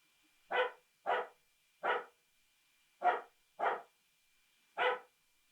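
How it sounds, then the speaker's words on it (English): Dogs bark in greeting, six sharp separate barks in an uneven rhythm, clear against near silence, at moderate distance. "the dogs are saying hello in the way that dogs do"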